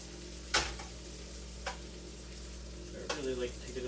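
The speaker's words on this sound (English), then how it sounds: "Toss the meatballs, make sure that they get fully cooked through." Meatballs fry in a pan under a steady low sizzle, with three distinct bursts as they are tossed and stirred, the last followed by brief clattering; a faint hum runs underneath.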